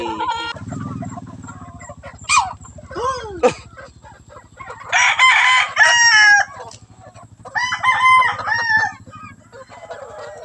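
Fighting roosters crow loudly and repeatedly, with several long cock-a-doodle-doo calls and some clucking nearby, while a low rumble of background noise runs underneath.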